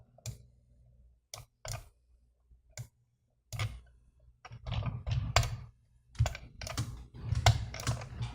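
Control-clicks on a computer while rigging a 2D character in Toon Boom Harmony: a few isolated sharp clicks, then a denser run of keyboard and mouse clatter, close and fairly quiet with no talk.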